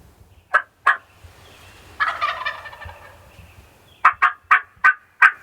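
Wild turkey jake gobbling outdoors during a spring hunt: two short sharp calls, then a longer rattling gobble, followed by a quick burst of five clipped notes, fairly close and clear with no talk.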